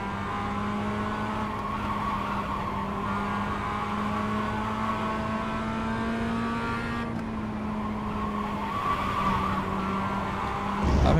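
A twitchy race car on track during a short ten-minute race holds a steady engine drone heard from on board, with faint tyre scrub and no talking.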